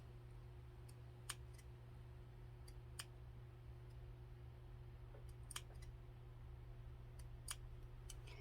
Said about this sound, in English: I am just making just a little bitty cut